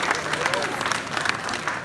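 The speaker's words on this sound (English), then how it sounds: "Thank you very much. Big round of applause." An audience at a London talk gives a speaker a round of applause, a loud, close burst of many hands clapping that carries on for a couple of seconds with a faint murmur of voices underneath.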